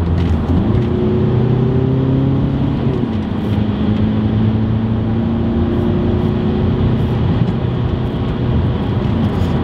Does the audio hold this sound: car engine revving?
yes